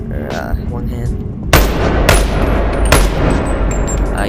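Rifle fire in a VR gun video game played on a Quest 3 headset: three sharp, loud gunshots at uneven intervals over steady game background noise.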